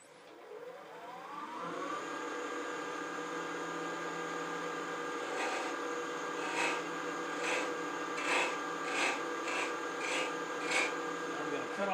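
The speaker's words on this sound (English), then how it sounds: "We're going to do a little bit of sanding." A spinning lathe hums steadily as sandpaper rubs against turning wood, with a series of rhythmic rasping strokes growing more pronounced toward the end.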